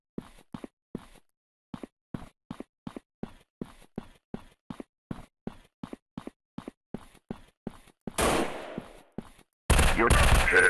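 Gunfire from the mobile shooter game Gun Strike 3D Shooter, a long run of evenly spaced sharp single shots, then a dense burst of noisy automatic fire and loud blasts at the end.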